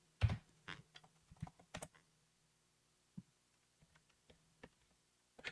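Keys on a computer keyboard are pressed in quiet, scattered clicks, a quick cluster at first, then sparse single taps after a pause, with no talking.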